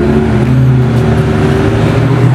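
McLaren 720S supercar going by on a city street, a loud, steady engine drone with low harmonic hum held throughout, close and continuous with no talk over it.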